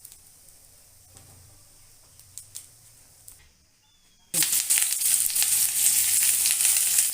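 Onions, dried red chillies and curry leaves hit hot oil halfway through with a sudden loud, bright sizzle that stays strong and crackling to the end, after a quiet opening with a few light taps.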